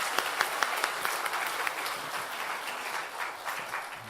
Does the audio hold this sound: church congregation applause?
yes